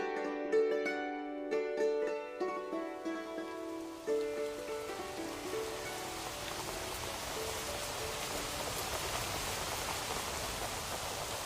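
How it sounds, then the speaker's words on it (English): Rainforest rain falls as a steady, even hiss of drops that fills the scene after a short run of gentle chiming tones fades out. "To hear the soothing sounds of the rainforest, the rain coming down"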